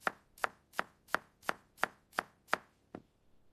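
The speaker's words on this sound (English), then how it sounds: "I cut the vegetables." A knife chops vegetables on a board in a kitchen, nine sharp, evenly spaced cuts at a steady rhythm, close and clear with no talking.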